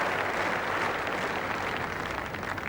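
Sustained crowd applause at a 1995 Australia v England cricket Test match on the final day, steady broad clapping from a large stadium crowd, even and continuous throughout.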